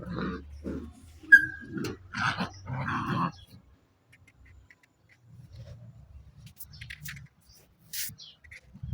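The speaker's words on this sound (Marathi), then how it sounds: "बाहेर बसलो होतो तर दोन कुत्रे धिंगाणा कसे खेळायला" Two dogs playing outdoors, with a burst of growls, yips and scuffling snorts early on, then quieter low rumbling and a few scattered sharp sounds later, heard close by without talk.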